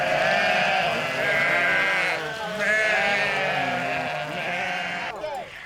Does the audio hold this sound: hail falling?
no